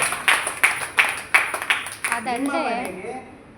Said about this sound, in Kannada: ಬರ್ಲಿ ಜೋರಾಗಿ ಚಪ್ಪಾಳೆ